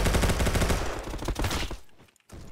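Rapid automatic gunfire from a Roblox Bad Business first-person shooter, a dense loud burst of shots lasting nearly two seconds before cutting off abruptly, followed by a short silence and a brief return of noise.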